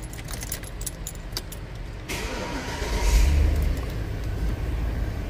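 Keys jangle and turn in the ignition of a Chevy Suburban with a passlock fault, a sharp metallic rattle followed by the engine cranking and rumbling up louder, with no talking.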